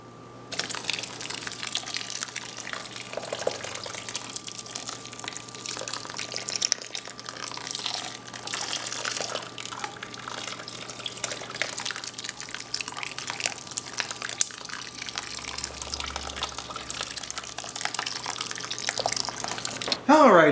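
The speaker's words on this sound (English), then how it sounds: "we'll go ahead and return this pan's worth of sweet wort to the mash tun here" Sweet wort pours back into a mash tun in a steady, splashing gush of liquid for most of the stretch while a voice talks over it.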